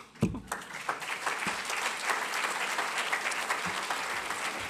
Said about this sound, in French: Et Carole, vous pouvez l'applaudir.